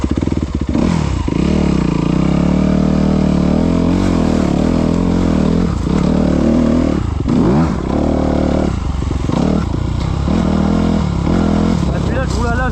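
Motorcycle engine running while riding off-road, a loud continuous drone that rises and falls with repeated revs and rough clattering, with a voice talking over it throughout.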